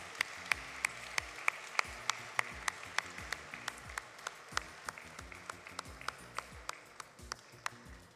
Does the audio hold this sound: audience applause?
yes